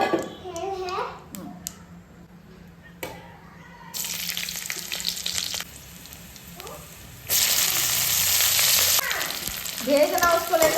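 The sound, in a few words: oil heating and sizzling in a hot kadhai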